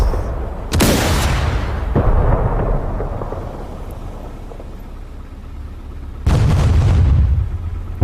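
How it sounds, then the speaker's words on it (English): Enemy gunfire and heavy explosions in the DCS World combat flight game during a strike on a hostile airfield: a loud, sudden blast, a second impact, a rumbling decay, then another powerful explosion near the end. "They're shooting you through the buildings"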